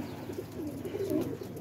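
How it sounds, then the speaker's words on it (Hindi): Pigeons cooing inside a loft where the birds are nesting with eggs, a soft, steady, low burbling close by. "कबूतर चेक कर लें, आपके सामने फिट एंड फाइन कबूतर हैं।"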